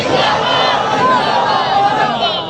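Large religious gathering at a Milad event chants the slogan Tajdar Khatm-e-Nabuwwat in unison, a loud, dense roar of many voices sustained throughout.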